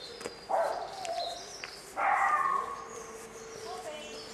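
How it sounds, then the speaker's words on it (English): Dogs bark out in the woods near Plym Bridge, with two distinct short bursts of barking at moderate distance over a quiet outdoor background. "so you can hear all the dogs barking."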